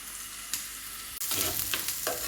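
Onions dropped into hot ghee in a pan for Mangalore-style chicken puli munchi burst into a loud sizzle partway through, after a quieter hiss, with stirring scrapes following.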